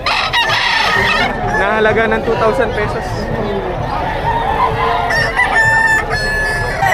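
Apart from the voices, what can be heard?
rooster crowing at a chicken market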